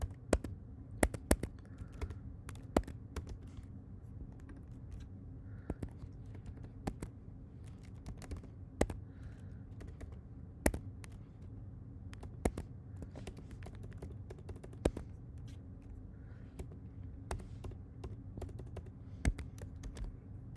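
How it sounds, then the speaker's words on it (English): Steady typing on a computer keyboard while a movie title is entered, with irregular sharp key clicks scattered over a low hum, close and fairly quiet, with no voices. "So when I insert a movie, I could type in the movie Flipped from 2010."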